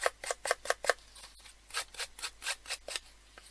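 Scissors distressing paper snip repeatedly in quick, crisp strokes, a fast run of cuts followed by a slower, softer series, close up with no talking.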